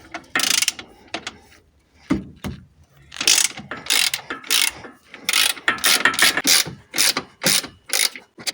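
Rapid bursts of ratchet clicking as a hand ratchet loosens an external Torx 14 fastener on the headlight height control linkage of an Alfa Romeo Stelvio 2.2 JTDm2, close and loud with short pauses between strokes.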